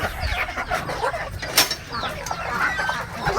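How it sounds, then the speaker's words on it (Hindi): Several free-range farm chickens cluck and call in overlapping bursts close by as the flock is let out, with a brief louder squawk midway and steady outdoor background noise. "जो हमारे मुर्गियाँ हैं उनको फ्री रेंज में खोल देते हैं"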